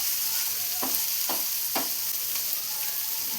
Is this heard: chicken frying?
yes